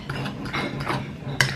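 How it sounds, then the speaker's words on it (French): A utensil stirs mashed potatoes in a pot, making soft, irregular scraping and squishing strokes at close range, ending in one sharper clink. "J'arrive à mélanger ma purée."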